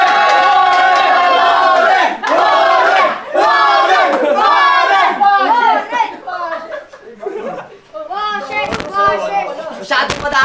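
A battle rap crowd at a freestyle event roars and shouts in bursts, loud and close, cheering for a rapper named Warren, with ragged yells tapering into scattered chatter and whoops toward the end.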